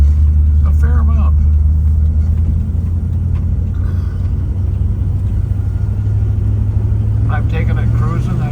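A 1965 Ford Thunderbird convertible runs and drives with a deep, steady engine rumble and road noise. A voice speaks briefly over it at the start and again near the end.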